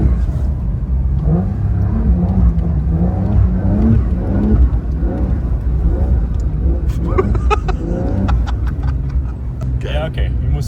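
Porsche 992 Dakar engine revving in deep snow, a rough rumbling drone that rises and falls in repeated pulls, with people talking over it and crunching, scraping noises near the end.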